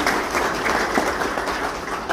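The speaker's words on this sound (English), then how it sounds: "Daryl, how about giving Daryl a round of applause for free tickets for next weekend's race?" An audience at an auto racing Hall of Fame induction event breaks into dense, steady applause from many hands, loud and close, lasting the whole short stretch.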